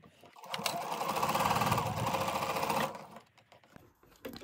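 A sewing machine stitches along the center seam line joining two pieces of fabric, running in one steady mechanical whir for about two and a half seconds before stopping, followed by quieter handling noises.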